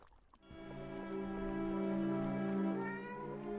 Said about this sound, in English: Een kat. Meow.